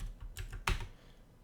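Keys clattering on a computer keyboard while code is typed into a web form's code-behind file, a few quick close taps then a sharper cluster of strokes, fairly near and moderately quiet, with no talking.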